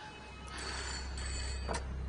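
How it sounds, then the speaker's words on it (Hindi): An electronic phone ringtone trills in short repeated bursts over a low steady hum, moderately loud and close. "फोन बज रहा है, सुना नहीं दे रहा तेरे को?"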